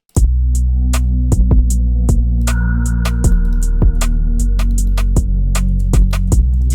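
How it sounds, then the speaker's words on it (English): An atmosphere snare sample from the Solus kit, played in a sampled R&B beat built in FL Studio, cracks out in repeated sharp hits over a loud, steady low hum and sustained tones. "I'm gonna grab one more drum sound from the Solus kit, which is this atmosphere snare."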